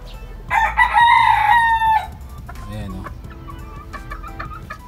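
Young pullets cluck and one crows in a strained, wavering call near the start, followed by softer scattered clucks and chicken murmurs close by, with no speech.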